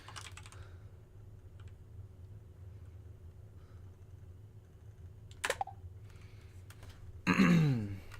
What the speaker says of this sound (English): you're going to hear clickety keyboard